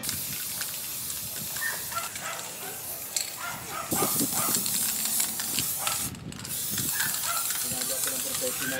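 Spray paint hissing onto a plastic cabinet in a steady, close, continuous stream with brief pauses, while a person talks over it.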